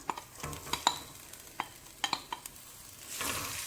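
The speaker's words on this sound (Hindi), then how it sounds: "अच्छा सा फ्राई कर लेंगे। देखें प्याज हमारे हो रहे हैं अभी।" Onions frying in oil in a pot for chicken biryani, a steady sizzle broken by several sharp scrapes and clinks of stirring, with a louder hiss swelling near the end; no one speaks.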